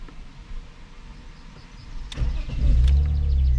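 A BMW E46 with a swapped M54B25 engine runs as a low, steady rumble that swells louder and heavier toward the end as the car pulls away, with a couple of brief sharp clicks along the way.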